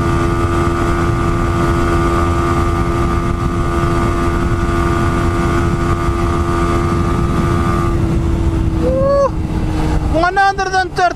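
A Yamaha YZF-R125 motorcycle ridden at speed gives a loud, steady, high engine drone over rushing wind for about eight seconds, then the pitch drops and wavers as it slows; a voice talks briefly near the end.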